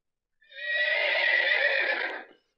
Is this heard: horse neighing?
yes